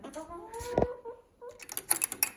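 Chickens give a few scattered clucks and short calls nearby, with soft rustling and quiet pauses between them.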